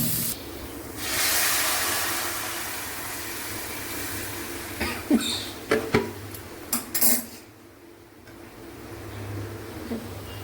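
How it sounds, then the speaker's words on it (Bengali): Broth poured into a pan of fried spice paste for a Bengali fish curry with drumsticks, a steady hiss and sizzle broken by several sharp clinks of a utensil against the pot, then settling. "এবার আমি এর মধ্যে ঝোলটাকে ঢেলে দেবো।"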